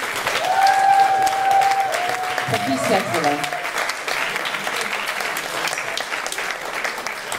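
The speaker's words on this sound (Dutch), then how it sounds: "applaus nog eens" A crowd at an award ceremony for a local honor applauds a nominee with sustained, dense clapping; someone speaks briefly over the applause near the start.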